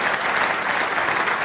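Audience applause during a software add-on builder demo, a thick continuous wash of many people clapping, loud and close, with no speech over it.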